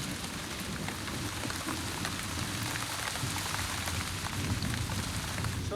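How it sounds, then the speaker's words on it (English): Heavy pouring rain in stormy, hurricane-like wind, a dense steady hiss of drops drumming on surfaces, continuous and fairly loud with no voices. "Pouring rain and blowing a hurricane ever since."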